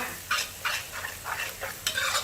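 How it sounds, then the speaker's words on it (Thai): Sliced ginger is stir-fried in a pan over medium heat, with a steady sizzle and six or so rhythmic scraping stirs of the spatula, close and clear, with no talking. "นี่ค่ะลงไปผัดเลยค่ะเพื่อนๆผัดให้หอมเลยนะคะ"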